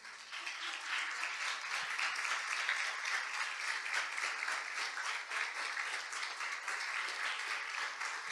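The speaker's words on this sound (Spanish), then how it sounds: "¿Por qué no le das un aplauso a Cristo?" Sustained applause from a church audience giving an ovation to Christ, a dense steady wash of many hands clapping together at full strength throughout with no talk over it.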